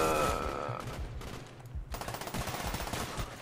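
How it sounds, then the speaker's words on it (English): Call of Duty: Black Ops 1 gunfire rattles out in quick bursts from a pistol fight, with close, sharp shots clustered at the start and again in the second half, and no talking. "He got me with the pistol."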